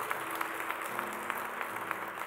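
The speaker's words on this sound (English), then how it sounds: "Let's give him a hand clap and" A church congregation claps along in a rhythmic, fairly faint hand-clapping, with regular accented beats over a soft background hum.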